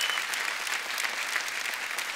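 A studio audience on The Kapil Sharma Show welcomes guests with dense, continuous applause, a steady bright roar of many hands with no voices on top.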